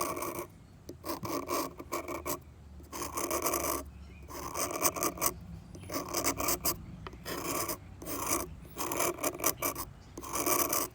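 A hand rasp files into stone while a Mi'kmaw carver shapes a salmon, producing repeated loud, gritty scraping strokes in a steady back-and-forth rhythm with brief pauses between passes, and no talking.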